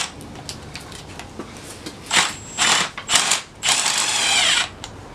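A spring compressor tightens on a 1998 Toyota Corolla rear strut spring, giving a series of close, loud ratcheting bursts of varying length after a few light mechanical clicks, with no talking.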